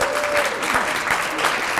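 A crowd at a human rights awards ceremony applauds the recipients, giving a full, continuous round of clapping with no voices over it.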